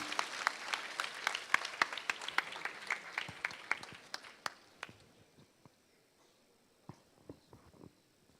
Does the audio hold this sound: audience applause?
yes